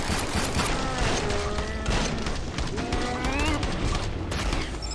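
Pistol fire in Killing Floor 2 during a Christmas event, rapid sharp gunshots in a steady volley mixed with mechanical clatter, tonal whines and chaotic game noise, loud throughout.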